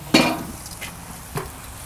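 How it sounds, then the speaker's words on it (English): Salmon laid into a hot pan, a sharp hiss and clatter as it hits, then a quieter sizzle with one more brief clink, close and short with no talking. "Nice hot pan, get the fish going"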